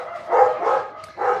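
Guard dogs barking indoors, three short, muffled barks at moderate distance in quick succession.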